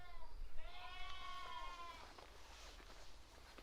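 A lamb gives one drawn-out, wavering bleat nearby from inside a village house, followed by quieter rustling and faint background noise.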